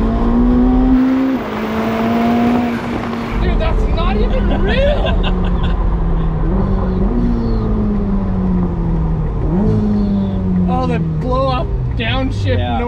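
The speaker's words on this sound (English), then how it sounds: "downshift noise." A Ferrari SF90 hybrid supercar's engine roars and changes pitch sharply through a series of downshifts and throttle blips, loud and close, with excited voices talking over it.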